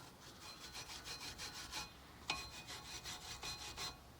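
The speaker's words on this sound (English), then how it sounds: "Just brush that off real quick with my brush." A copper wire brush scrubs rust and dust off the front brake caliper bracket of a 2019–2022 Honda HR-V, a steady run of quick back-and-forth rasping strokes with one sharp scrape midway, faint and close, no voices.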